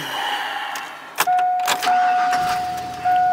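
A 2000 GMC Sierra pickup with about 260,000 miles cranks briefly and catches, settling into a steady close idle with a persistent whine running alongside the engine hum.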